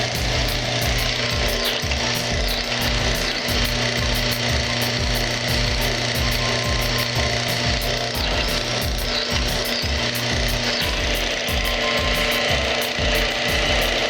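A lubricity test machine running on Mobil SHC 634 synthetic circulating and gear oil makes loud, continuous mechanical ratcheting and grinding with a fast repeating clatter and a steady low hum underneath, and no voices.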